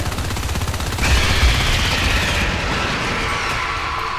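Marines in Natural Selection 2 pour loud, rapid automatic gunfire into an alien hive, a dense close barrage of shots that thickens after the first second and keeps going.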